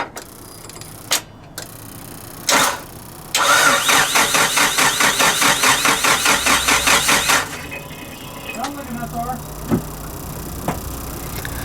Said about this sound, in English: I think we should try to crank her over.